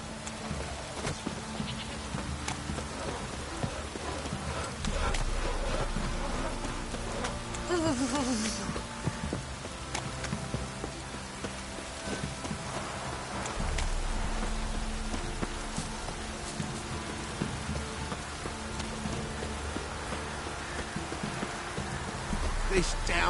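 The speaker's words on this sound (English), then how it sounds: "This downpour's a bastard" A heavy, steady downpour in The Witcher 3: Wild Hunt on PS4, rain hissing and drumming on surfaces, with a low rumble and scattered game sounds and voices.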